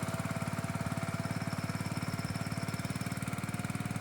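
A diesel farm vehicle engine runs near a banana plantation, with a fast, even chugging beat and a steady drone that hold for the whole stretch, with no speech.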